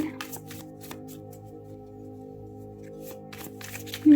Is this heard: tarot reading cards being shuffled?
yes